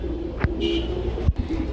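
A Kashmiri white racer pigeon gives two low, soft coos about a second apart, close by against a quiet background.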